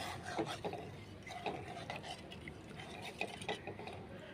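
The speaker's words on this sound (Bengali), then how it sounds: "মশলা কষানো হয়ে গেছে এবার দিয়ে দিচ্ছি পরিমাণ মতো জল" Water poured into a fish mustard curry and stirred in, giving a continuous quiet slosh with the spoon tapping and scraping the pot several times.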